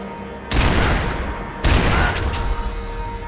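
A barrage of gunfire in the video game Max Payne 3 comes in two loud bursts of rapid overlapping shots, the second followed by scattered further cracks.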